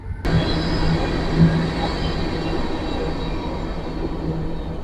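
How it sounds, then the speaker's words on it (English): A long train rumbles past steadily, a continuous broadband roar of rolling wagons with faint rail squeal, loud and unbroken throughout. "that was a long train."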